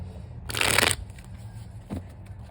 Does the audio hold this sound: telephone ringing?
no